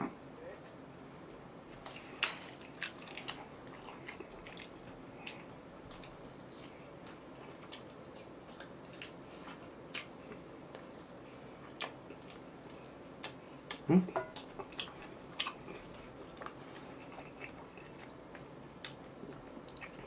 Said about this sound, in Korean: 뼈 씹는 소리도 조용히 나